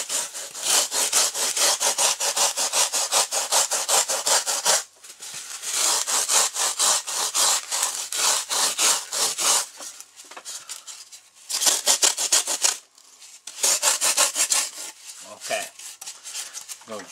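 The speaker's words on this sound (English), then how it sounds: "I'm just going to go ahead and rasp that around there." A rasp worked back and forth over a carved bass body form for fish taxidermy, loud close rhythmic scraping strokes in long bursts separated by short pauses.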